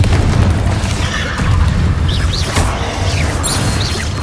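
A Confringo blasting spell goes off in Hogwarts Legacy, a loud sustained roar of booming blasts and crackling debris that fills the whole stretch, with sharp whooshing streaks cutting through near the end.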